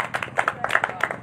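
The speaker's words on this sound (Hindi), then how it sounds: "ताली बजाओ सारे आदमी" A crowd at a magic show claps, with a short, uneven patter of hand claps at moderate loudness from a small group. No voices can be heard.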